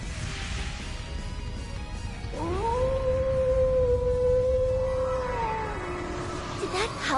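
A long, rising and sustained wolf howl from the Divine Wolf in Trails into Reverie, loud and clear over a rumbling game background, sliding up at the start and bending down near the end.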